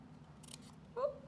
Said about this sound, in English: we're gonna cut right down the middle with a pair of scissors